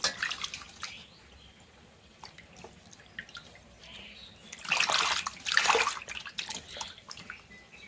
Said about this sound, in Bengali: মাছগুলো ধুয়ে নিচ্ছি ভালো করে।